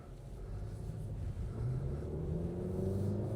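A 2026 Nissan Sentra with a naturally aspirated 2-liter four-cylinder pulls away on a back road, a soft, muffled cabin rumble slowly climbing in pitch as it gains speed.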